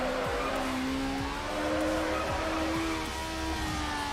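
Mazda FD with a rotary engine racing in Need for Speed Underground, its high buzzing engine note rising steadily and joined by tire squeal as the car slides, loud and continuous with no talk.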